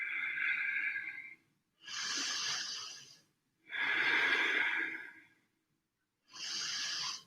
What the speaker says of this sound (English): Pause and breathe.